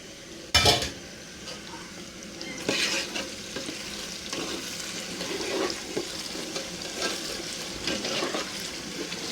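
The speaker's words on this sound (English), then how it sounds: "You can see our tomato is well fried" Tomato frying in a pan for a vegetable stew sizzles steadily, with a sharp metallic scrape or clank near the start and occasional spoon stirs and pan knocks over the constant hiss.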